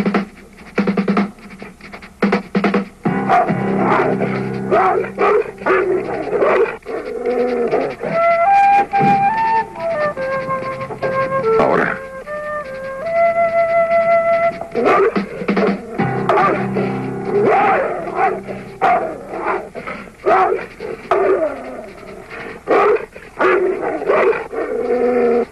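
Doberman dogs bark and yip repeatedly in a noisy scene, and a few short high tones from a guard's whistle cut through in the middle.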